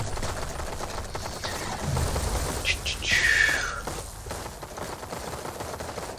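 Gunfire in the video game The Cycle: a dense, continuous rattle of rapid shots with a louder burst near the middle, steady and fairly close throughout.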